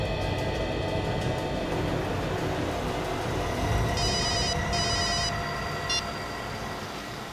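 A mobile phone call rings in a tense crime-drama scene, with a few short bursts of electronic ringing tones standing out over a steady noisy background.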